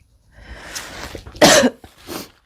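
A few harsh coughs from one person, loudest in a strong burst near the middle, with a softer cough or throat noise before and another after, close and alone without speech.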